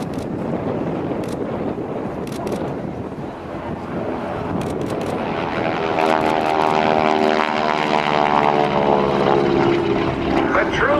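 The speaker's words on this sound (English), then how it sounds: "we are hearing quite a growl from that engine" A T-6 Texan propeller plane's engine roars loudly at an airshow, building into a throbbing, buzzing growl with wind rushing past the microphone.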